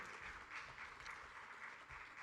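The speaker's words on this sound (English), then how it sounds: "Can we please give him another round of applause as he steps down?" Applause at an investment forum as a speaker steps down, steady clapping from an audience heard faintly and at a distance, with no voices over it.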